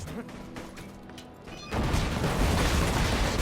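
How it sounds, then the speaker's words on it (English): Grenades in the video game Borderlands split into smaller child grenades and explode in a dense, loud rumbling burst that starts after a quieter lead-in and keeps crackling to the end. "I'm shooting grenades that are spawning into child grenades."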